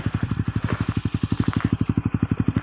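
Motorcycle engine riding down a big road, a loud close steady pulsing chug with even rapid firing beats throughout.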